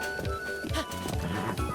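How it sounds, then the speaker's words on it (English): Epona, the legendary horse in Zelda: Breath of the Wild, gallops with steady rhythmic clip-clop hoofbeats and a brief whinny, fairly loud and close, with no talking over it. "Epona, the legendary horse."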